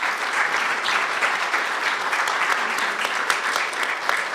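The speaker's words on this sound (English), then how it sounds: "If we can give a round of applause to our wonderful panel." Audience applause closing a housing policy panel discussion, dense steady clapping from a sizeable crowd that holds at an even, loud level throughout with no speech over it.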